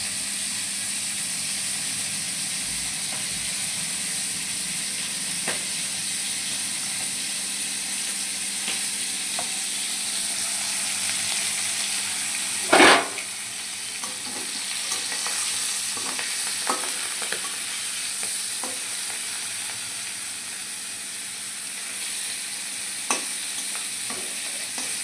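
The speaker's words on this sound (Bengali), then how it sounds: "আর এই দেখো মাছ আমার প্রায় মোটামুটি সব কটাই ভাজা হয়ে গেছে আর অল্প কটা আছে কড়াইতে" Fish fry in oil in a kadai, with a continuous sizzle and hiss broken by scattered clicks of stirring and one sharp louder scrape near the middle, heard alone and close.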